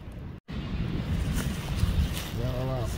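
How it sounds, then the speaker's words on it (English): Wind buffets a camera outdoors at an archery range, a steady roar of rushing noise that cuts out for an instant, with a voice briefly heard near the end. "Wind blowing pretty good, shaking the camera."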